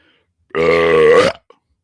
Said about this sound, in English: The Diet Coke burps are on point today.